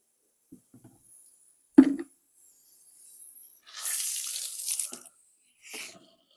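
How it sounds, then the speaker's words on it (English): Water pours into a container already holding bleach and soap, a short splashing rush that comes in two bursts, the second briefer, after a few quiet knocks and a sharper clunk. "I'm going to top it off the rest of the way with water."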